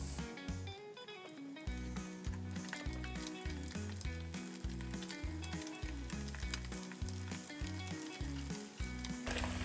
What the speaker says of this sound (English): it's time for us to start frying this up